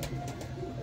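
A pigeon coos from a rooftop with a low, soft, steady warble, faint and fairly close, with no talk.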